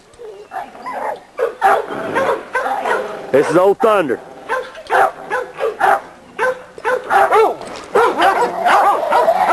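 Dogs bark and yip repeatedly in a hound dog yard, sharp close barks recurring throughout, one whining howl-like yelp in the middle, with someone talking over them.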